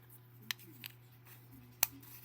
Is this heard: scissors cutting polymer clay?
yes